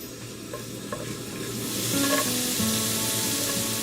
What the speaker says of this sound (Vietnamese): Cho hành và tỏi băm vào.